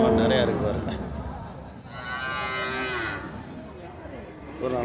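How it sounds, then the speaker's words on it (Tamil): A native cow at the Melur livestock market gives one clear, drawn-out moo that stands out over crowd chatter and market bustle, and people talk nearby. "இந்த மேலூர் சந்தையில் பார்த்தீங்கன்னா இந்த நாட்டு மாடு இந்த மாதிரி மாடு நிறையா வந்துருந்துச்சு"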